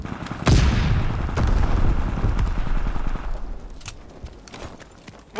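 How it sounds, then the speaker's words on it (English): In Call of Duty WWII, a thrown stun grenade goes off with a loud, sharp blast that rumbles and fades over a few seconds, with scattered gunfire cracks behind it. "Throwing stun grenade."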